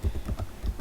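Short burst of typing on a computer keyboard, a few quick soft key taps heard close and alone.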